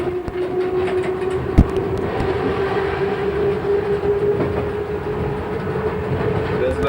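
Cab ride aboard a train on the Kronprinz Rudolfsbahn approaching Villach, Austria, running at about 70 km/h: a steady close rumble of wheels on rail with a sustained tonal drone, one sharp click partway through, no talk.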